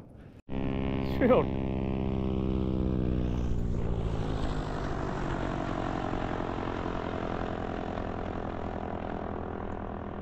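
A seaplane's propeller engine drones steadily overhead as it flies over a lake to land, a loud sustained hum with a brief whoosh early on, continuing without pause throughout.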